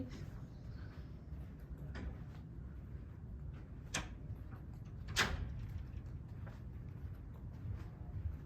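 Faint sliding and clicking knocks of a door opening in a quiet, empty university library, several short soft impacts spread over a hushed background.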